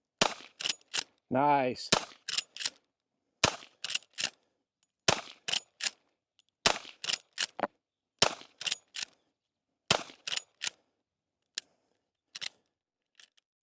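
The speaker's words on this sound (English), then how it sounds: "I went back to shoot 2 more 10-shot groups to make sure this optic did not lose 0" Rifle fired with a Viridian MDS35 optic, shot in ten-shot groups at a range; sharp, loud cracks come in a steady spaced sequence, with a brief spoken word near the start.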